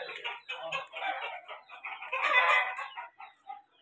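Aseel champion roosters clucking and calling close by, a loose run of throaty clucks building into a louder drawn-out crowing cry, with short pauses between calls.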